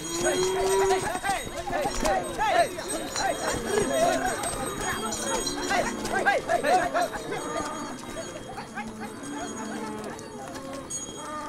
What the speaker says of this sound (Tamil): என்ன நீ மாடு பிடிச்சிட்டு வர?